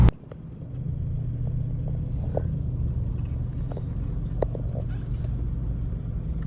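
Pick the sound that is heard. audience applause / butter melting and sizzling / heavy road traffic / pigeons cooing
heavy road traffic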